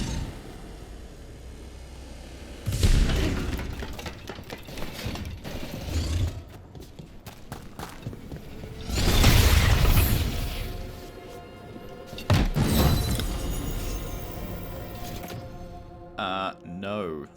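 Explosions go off in Dragon Age The Veilguard, several heavy booming bursts with rumbling crashes spaced through the stretch, mixed with creaking mechanical game sounds and a player talking at times.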